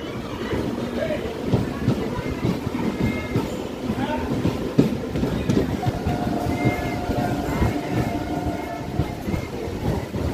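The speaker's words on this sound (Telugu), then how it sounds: "పాలకొల్లు నుండి మన ట్రైన్ అయితే బయలుదేరిపోయింది" A Vijayawada–Narasapur MEMU passenger train rumbles along after leaving Palakollu, with steady rolling noise, rattles and occasional squeals, heard from inside the coach.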